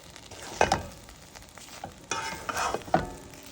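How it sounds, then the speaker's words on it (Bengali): Khichuri with chopped spring onion is stirred in a pot, a spoon scraping and tapping in a few uneven strokes over a gentle sizzle, close and fairly quiet with no voices. "এই পেঁয়াজ পাতা থেকেও সুন্দর একটা ফ্লেভার আসে তারপরেও আবার এই যে নেড়ে চেড়ে দিব"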